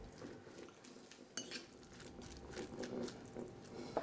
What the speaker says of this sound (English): I'll just give that a gentle mix just to make sure I've got enough in there